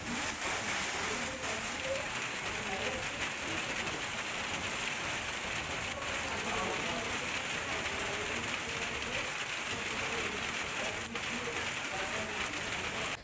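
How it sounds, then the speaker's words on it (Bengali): Light drizzle falling in Sylhet, Bangladesh, makes a steady, even patter of rain on surfaces, continuous and fairly distant, with no voices. "সিলেটেও গুড়ি গুড়ি বৃষ্টি হয়।"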